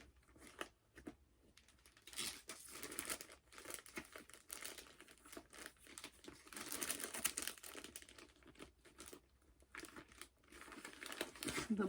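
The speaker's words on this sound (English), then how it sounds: "Sorry for the crinkle." Plastic packaging crinkled by hand while sorting cross-stitch work on Belfast linen, bursts of sharp crackling and rustling that swell and fade in irregular clusters, fairly quiet and close, with no talk over it.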